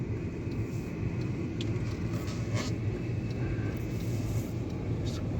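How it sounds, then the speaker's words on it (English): Steady low engine rumble of a 2015 Hyundai Grand i10 Asta with a 1.2 liter petrol engine, driving in third gear, heard from inside the cabin as a continuous drone with road noise and no talk. "In the 3rd gear, after 2000 RPM it revs like hell."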